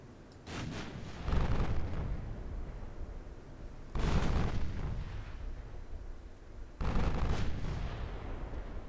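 The main guns of a warship in the Ultimate Admiral Dreadnought naval game, set in 1964, fire three loud booming salvos, each spaced a few seconds apart and trailing into a long rumbling decay.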